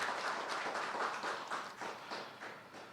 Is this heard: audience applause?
yes